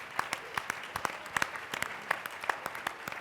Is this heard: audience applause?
yes